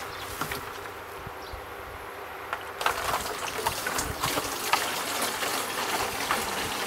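Warm water is poured into a keg while making a sugar wash for moonshine, a continuous rushing gush that grows louder and fuller partway through, with no voices.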